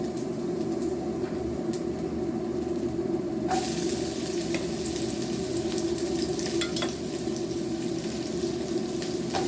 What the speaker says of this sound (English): So fry this nicely.